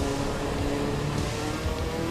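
Steady engine drone of a fast car driving in the Assetto Corsa EVO racing game, a continuous close hum with no pauses and no talking.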